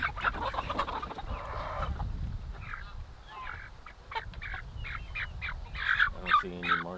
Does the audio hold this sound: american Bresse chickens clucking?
yes